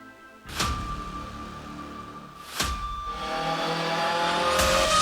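A red Shell-branded Formula 1 race car on a racetrack, with several loud engine passes sweeping by in a row, each a sharp roar that rises and fades, the last building louder toward the end.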